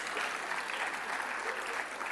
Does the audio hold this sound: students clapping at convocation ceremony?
yes